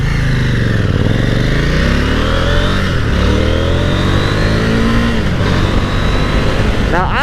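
A KTM 890 Duke motorcycle engine pulls hard and close, its pitch rising and dropping through quick upshifts under steady throttle, with wind noise and a voice over the engine.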